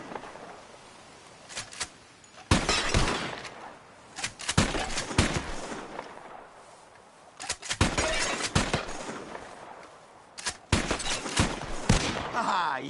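Gunshots from a Red Dead Redemption 2 shooting contest, several sharp loud cracks in irregular bursts separated by quieter gaps, some shots followed by shattering, breaking sounds.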